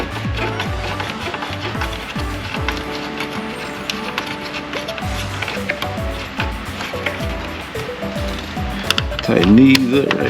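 A hand Phillips screwdriver tightens screws on an ambient light sensor fitting, producing close, rapid ratcheting clicks that run continuously, with a louder rattle near the end.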